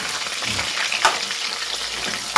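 Onion frying in a hot pan gives a steady, close sizzle with a couple of brief clinks of stirring.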